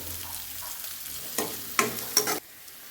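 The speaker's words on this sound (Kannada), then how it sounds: "ಉಳ್ಳಾಗಡ್ಡೆ ಕಡ್ಡಿ ಬೆಳ್ಳುಳ್ಳಿ ಸ್ವಲ್ಪ ಫ್ರೈ ಆಗಬೇಕು" Onion and garlic fry in a pan with a soft, continuous sizzle, broken by three brisk stirring scrapes before the sound drops away abruptly.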